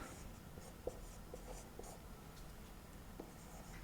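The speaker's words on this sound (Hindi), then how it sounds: "क्योंकि अगला हम लिखेंगे इसी में" A pen scratches across paper during a written lesson, soft and close, with a few light taps and strokes in an otherwise quiet room.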